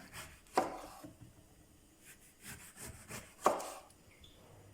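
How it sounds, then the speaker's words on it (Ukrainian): A knife slices an orange into rounds on a board in a few crisp strokes, with quieter rubbing and tapping between them. "Апельсин нарізаю спочатку кружечками."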